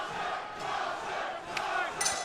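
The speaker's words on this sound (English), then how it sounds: "The crowd is going absolutely nuts here for Nasser Matrane" A boxing crowd cheers and roars continuously for Nasser Matrane, a moderately loud, steady wash of voices with a few sharper shouts standing out.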